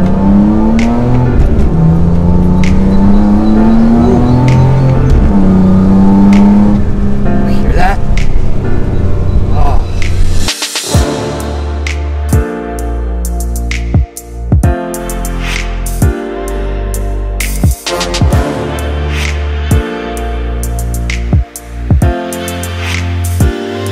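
A BMW E46 M3 CSL revs and accelerates hard, with a rising engine note giving way to a sharp gear change and then loud, choppy throttle pulses and further shifts, close and dominant throughout.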